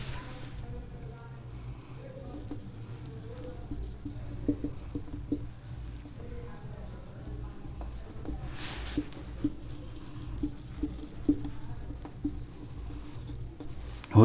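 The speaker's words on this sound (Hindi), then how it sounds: "अगर इसको आप लिखना है तो ऐसे लिख सकते हैं" Marker or chalk writing on a classroom board during a physics lesson on Oersted's effect, with soft scratchy strokes and tapping ticks against a quiet room while someone speaks in the background.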